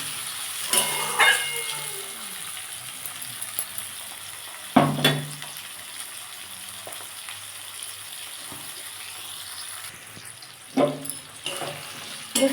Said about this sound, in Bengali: আমি এর মধ্যে এবার টমেটো দিয়ে দেবো এগুলো সব একসাথে একটু ভেজে নেব দেখুন